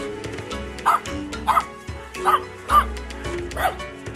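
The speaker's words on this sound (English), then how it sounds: "Dog," A dog barks in a series of about five sharp, loud barks and yips, evenly spaced and close, alone without talk.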